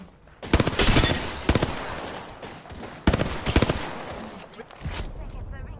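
Rapid automatic gunfire rattles in a console shooter match, two strong bursts of quick, close shots with smaller trailing volleys, each burst fading into echo.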